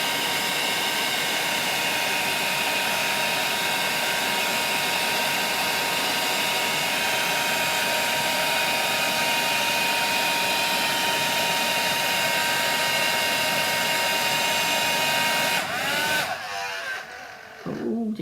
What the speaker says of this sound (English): get your heat gun hot, and as the powder melts